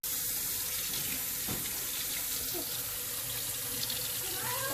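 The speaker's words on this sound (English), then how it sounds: "We're going to wash them up real good before we cook them." Tap water pours steadily into a sink while garden vegetables are washed for baby food, a loud, even rush with occasional splashes and faint voices in the background.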